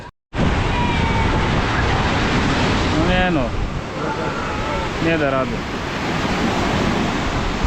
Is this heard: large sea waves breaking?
yes